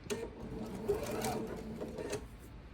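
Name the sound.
sewing machine sewing quilt half square triangles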